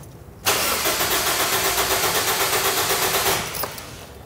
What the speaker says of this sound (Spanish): darle starter al carro.